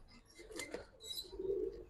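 Pigeons, including colored fancy breeds, coo softly in a loft, a few low murmuring calls with faint chirps and rustling around them.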